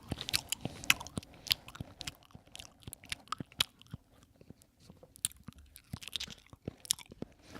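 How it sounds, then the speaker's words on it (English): Chewing a Thai banana close to the microphone, a rapid irregular run of wet crunches and bites that keeps going the whole time, alone with no talk. "If you guessed Ryan chewing a Thai banana, you guessed correctly."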